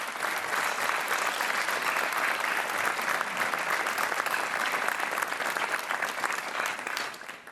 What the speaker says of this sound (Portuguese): é um aplauso para o Super Joker